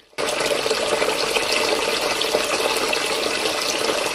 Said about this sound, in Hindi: मैंने सिंक का पानी खुला छोड़ा था ना?